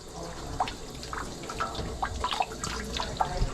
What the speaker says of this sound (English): You fill it up with water, and you run the water through the intestines